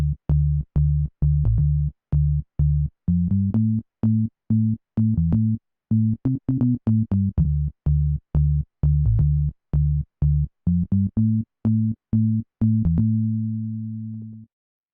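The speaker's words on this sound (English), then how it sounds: "and then you get this classic organ-like sound" Organ-like synthesizer tones from a Yamaha Reface CS, using an FM oscillator set like a drawbar, play a clear staccato chord pattern of short pulses, then settle into a held chord at the end, loud and alone.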